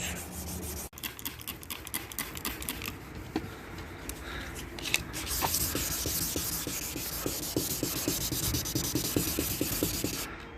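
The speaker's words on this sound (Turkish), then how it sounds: "Bu şekilde iki farı da sırayla zımparalayacağız şu an." Steady rough scraping of sandpaper rubbed back and forth over a hard plastic Chevrolet Cruze headlight to remove its old varnish layer, close up, continuous with rhythmic strokes and no voices.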